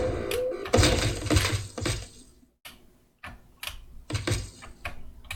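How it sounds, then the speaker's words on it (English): Rapid clicky typing on a heavy IBM Model M buckling-spring keyboard, dense bursts of sharp key clacks close up, pausing briefly in the middle before resuming in uneven clusters. "I think they are licensed to use the IBM Model M keyboard. So it's a very heavy, clicky keyboard."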